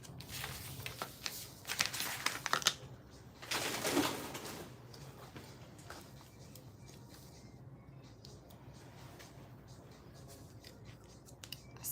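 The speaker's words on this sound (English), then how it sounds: "Now we need to cut out that hole in that center." Scissors snip through a vinyl star to cut out its center hole, a cluster of close, crisp cuts in the first few seconds before the room goes quiet apart from a faint background hum.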